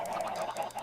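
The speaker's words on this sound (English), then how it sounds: "hopefully you can still hear me over those annoying chickens" Chickens in the video game Minecraft cluck and squawk in a rapid, repeating series of nasal calls, moderately loud with no talk over them.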